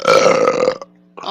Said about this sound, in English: the after dinner coma and you burp